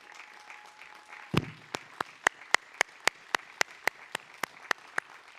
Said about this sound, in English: give them and your faculty members a round of applause